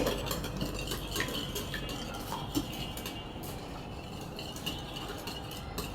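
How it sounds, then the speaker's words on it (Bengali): A utensil beats eggs with sugar in a bowl, a rapid steady clinking and scraping against the bowl, close and continuous, with no talking. "এখন আমি ভালো করে এভাবে ফেটে নিব ডিমটাকে"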